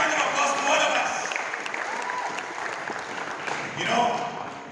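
Audience applause at an Indian restaurant industry event, a sustained crowd of clapping that swells briefly near the end, with talk mixed in.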